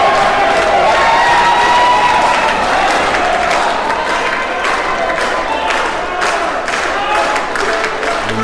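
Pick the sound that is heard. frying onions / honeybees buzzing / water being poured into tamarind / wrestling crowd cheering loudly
wrestling crowd cheering loudly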